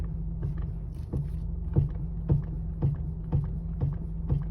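Steering on a Honda HR-V with a fault making noise as the wheel is turned: a repeated creaking clunk at a steady rhythm, about twice a second, close and fairly loud over a low hum, with no speech.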